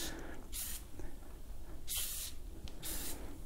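Three short hissing sprays from a spray bottle of cleaner, evenly spaced and fairly close, with no talking.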